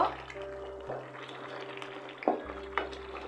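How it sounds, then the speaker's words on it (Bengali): Meat stirred in simmering gravy for Chittagong akhni biryani, soft wet scrapes and bubbling in a pot, fairly quiet with a low steady hum behind. "এখন মাংসগুলোকে একটু নেড়ে দেব"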